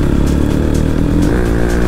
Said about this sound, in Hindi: आवाज सुनो बाइक की खतरनाक वाली